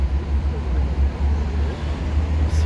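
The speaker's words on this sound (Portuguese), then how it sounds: "Esse carro é um Viaggio 1050." A Viaggio 1050 coach rumbles past at a bus terminal with a steady low engine drone and road noise, fairly close and constant throughout.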